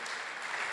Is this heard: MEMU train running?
no